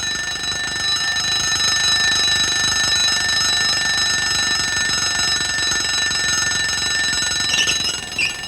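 An alarm clock rings loudly and continuously for several seconds at close range, a bright sustained bell tone that cuts off near the end, with no voices.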